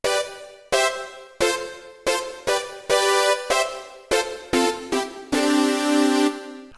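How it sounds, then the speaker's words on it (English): A Roland Juno-DS synthesizer plays its Brass S11 patch in a series of punchy, rhythmic brass chord stabs, each decaying quickly, then ends on a loud held chord. The stabs are bright and up front, with no other sound. "The next sound that he used was brass FG, and it's brass S11, and it sounds like this."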